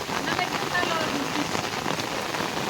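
Steady rain pours down outside a home in rural Bengal, a dense, even hiss of drops drumming on surfaces that holds at the same loudness throughout.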